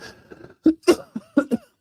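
A person gives a quick series of short, close coughs, five or six sharp bursts in under two seconds, with no talk.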